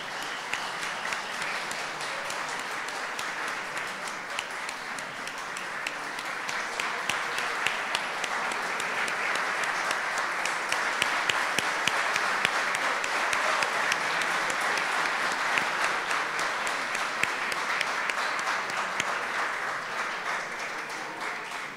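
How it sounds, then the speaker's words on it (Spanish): Sustained applause from a large audience at a ceremony marking 65 years of UCV Televisión, steady and loud throughout with a slight swell in the middle, no talking over it. "que se escuche fuerte el aplauso."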